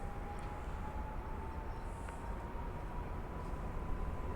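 A train moves through a railway station in Warsaw, a steady, close, low rumble with a faint sustained tone above it, continuous and unchanging throughout.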